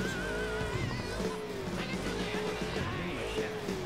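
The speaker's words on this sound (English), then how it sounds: "Hold the accelerator to fire up the engine." A car engine in Burnout Paradise fires up and revs, its droning tone rising and falling in pitch over a steady low rumble, with some faint tire noise.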